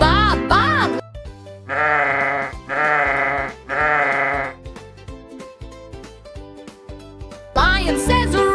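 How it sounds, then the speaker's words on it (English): Sheep bleating, three loud drawn-out baas in a row against a playful musical backing, with short sung or spoken phrases at the start and end. "Sheep says ba ba."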